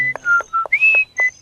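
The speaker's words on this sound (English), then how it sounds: "didn't I tell y'all to stop whistling that damn tune?" Someone whistles a short tune in clear, bright separate notes, a quick melodic phrase of rising and falling pitches heard close and alone.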